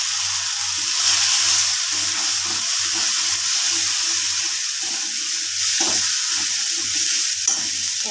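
Ginger and turmeric fry in a pan with a continuous close sizzle, broken by intermittent scraping strokes of a stirring spatula over about eight seconds, without speech.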